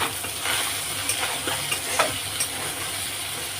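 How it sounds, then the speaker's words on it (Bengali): Rohu fish head and eggplant fry in oil in a pan, a steady sizzle running throughout with a few soft scrapes and clinks as a spatula slowly stirs, close and fairly even. "আবার একটু নেড়ে দেবো।"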